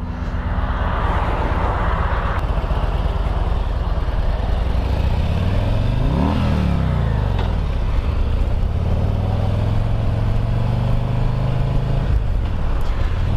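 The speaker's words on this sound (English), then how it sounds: "here's the 2020 CVO Street Glide" A 2020 Harley-Davidson CVO Street Glide motorcycle engine runs loud and close with a deep, steady rumble, rising and falling in pitch as it revs midway through.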